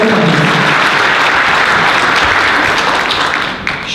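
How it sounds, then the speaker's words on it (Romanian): A crowd at a Romanian entrepreneurship and e-commerce event breaks into loud, dense applause that runs steadily for about four seconds, easing slightly at the very end. "Dacă considerați că e un moment de aplauze"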